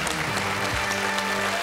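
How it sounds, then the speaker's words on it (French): Studio audience applause on a French television quiz show, a dense, steady wash of clapping filling the whole short stretch at even loudness, with a faint voice just audible beneath it. "Applaudi par Thomas en plus."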